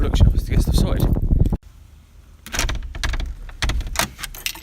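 A door at a production office is unlocked and opened, with keys jangling and the lock and handle clattering in a quick run of close clicks and knocks after a person finishes talking.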